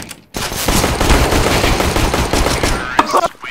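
Dense, sustained automatic gunfire from a Counter-Strike: Global Offensive match, loud and continuous after a brief quiet start, with a few sharper single shots near the end.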